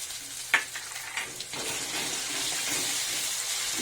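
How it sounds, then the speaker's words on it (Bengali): Onions and garlic paste frying in a pan, a steady hiss and crackle that builds after a couple of stirring knocks, close and moderately loud with no talking. "রসুনটাকেও ভালো করে ভেজে নেব"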